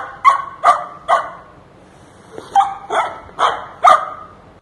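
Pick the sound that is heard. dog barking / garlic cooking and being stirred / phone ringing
dog barking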